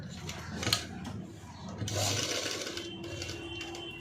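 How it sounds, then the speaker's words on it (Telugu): A sewing machine stitching a sleeveless padded cut-work blouse, running in short stretches close by, with someone talking over the stitching. "చూపిస్తున్న విధంగా నీట్గా స్టిచ్ అనేది వేసుకోవాలి."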